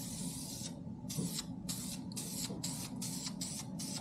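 Light coats of black spray paint go onto parts for a BMW E36 drift car, heard as repeated short hissing bursts from the aerosol can, close and fairly loud, with brief gaps between sprays.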